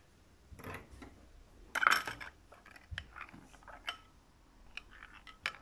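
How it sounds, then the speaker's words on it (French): A spoon stirs yeast into water in a bowl to dissolve it for a dough, making quiet, irregular clinks and scrapes against the container with a few sharper taps. "Je mélange bien pour bien dissoudre la levure."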